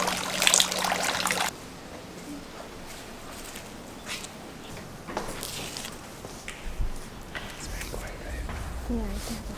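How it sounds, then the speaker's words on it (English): Water trickles and splashes softly as hands are rinsed at a Japanese washing basin, a light steady flow heard close by with quiet voices talking over it. "Now rinse your right hand."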